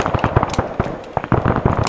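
Gunshots from the Arma 3 military shooter: sharp cracks and pops in rapid, uneven succession, loud and close, with no talking.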